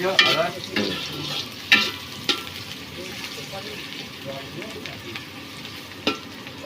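Chopped ginger fries in a hot pan with a steady sizzle, while a utensil scrapes and stirs in occasional sharp clacks close by.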